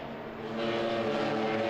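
Race cars in a Twingo Cup race at the Hungaroring run side by side, their engines making a steady, rising drone that swells slightly louder as they close in.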